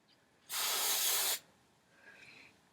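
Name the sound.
hairspray being sprayed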